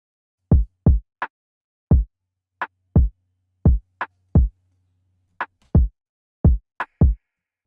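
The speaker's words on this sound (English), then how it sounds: "I started off with this simple kick, shot, and snap" A simple programmed neo soul drum beat of kick, shot and snap hits plays alone, with about fifteen short, punchy strikes in a loose, steady groove, dry and close.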